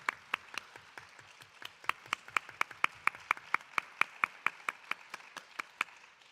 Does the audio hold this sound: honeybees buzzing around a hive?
no